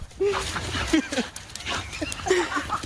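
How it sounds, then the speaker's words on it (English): A dog whimpers and squeals in excitement at its owner's return, with high, wavering cries and short yips close by, mixed with laughter and people talking. "Through the squeals, laughter, and kisses, Tom was reunited with his pup"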